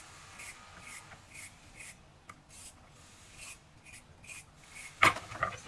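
A vegetable peeler scraping thin skin off vegetables for soup in a kitchen, a steady series of short rasping strokes up close, ending in a louder clatter.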